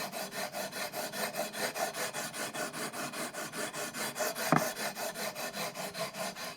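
A guitar fretboard on a Harley Benton ST-20HH being sanded with sandpaper on a leveling beam, giving a steady rhythmic back-and-forth rasp of close strokes with a brief louder knock partway through.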